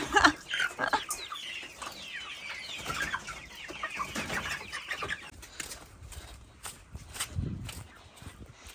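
Chickens cluck and squawk close by, several birds calling over one another with scratchy rustling and shuffling steps throughout.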